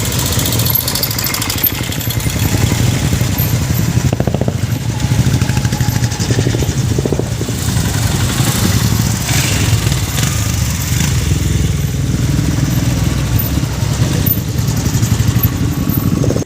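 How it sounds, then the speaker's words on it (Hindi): Royal Enfield motorcycles in an India-Nepal friendship rally, flagged off by officials, fill the air with a continuous loud, close thumping engine drone and clatter that holds steady for the whole stretch, with no speech. "भारत नेपाल मैत्री मोटरसाइकिल रैली को हरी झंडी दिखाकर रवाना किया गया"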